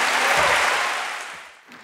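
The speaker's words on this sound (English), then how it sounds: "How about another round of applause for Charana Bach?" Audience applause at the City of Sydney Peace Prize award ceremony, a brief, dense burst of clapping that swells and then fades away.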